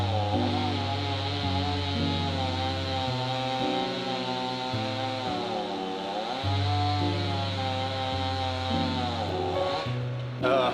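A chainsaw engine runs steadily and loudly for the whole stretch, pitch rising and dipping as it cuts wood during cleanup after a North Carolina flood.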